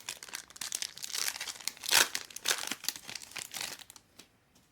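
Foil wrapper of a trading card pack being torn open and crinkled by hand, close and crisp, with irregular crackling bursts and a sharp rip near the middle before fading to quiet.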